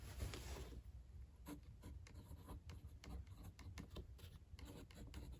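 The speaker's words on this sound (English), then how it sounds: "That you can write very comfortably on this paper." A TWSBI fountain pen with a medium nib writing on soft paper, giving a quiet, steady scratching and rubbing made of short strokes in an irregular rhythm, close up and faint, with no talking.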